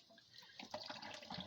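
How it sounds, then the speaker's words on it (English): Water runs from a kitchen tap over hands that are shaping sticky rice, a soft continuous splash and trickle with faint handling noises, quiet and close. "A little bit of water on my hands."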